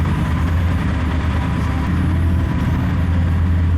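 A BMW GS 1150 Adventure motorcycle engine idles steadily after the key is turned, giving a constant low, throbbing rumble close by with no talk.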